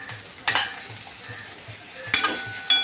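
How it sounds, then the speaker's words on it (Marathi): Stuffed brinjals with masala sautéing in oil, a steady low sizzle with a few sharp stirring clinks of a spoon against the pan. "आता आपण उरलेला जो मसाला होता ना, तो पण टाकूया याच्यामध्ये आणि छानसं परतून घेऊया"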